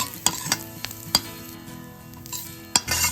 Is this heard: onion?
yes